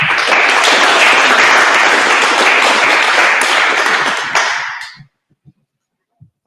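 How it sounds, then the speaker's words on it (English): Loud, dense audience applause for election candidates at a community board event, steady clapping for about five seconds before stopping sharply, followed by a few faint thumps. "Please give a big round of applause for our candidates today"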